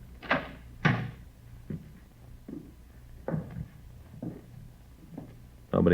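An apartment door in a radio drama is tried and opened, giving a series of knocking thumps and latch rattles in uneven rhythm, ending with a louder clunk, close and clear with no talk over it.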